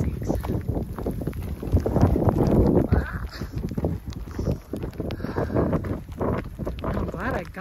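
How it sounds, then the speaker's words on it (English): Strong wind buffets the open mountain ridge with steady, roaring gusts that swell and ease across the whole stretch, loud and close with heavy rumbling on the microphone. "It's getting really windy."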